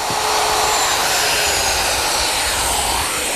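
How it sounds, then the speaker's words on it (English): A handheld router fitted with a collar and a 3/8-inch straight bit cuts through a plywood template for a walnut table, a loud, steady, high-pitched whine running unbroken throughout. "To remove the material, I'm using my router, which is set up with a collar and a 3/8-inch straight cutting bit"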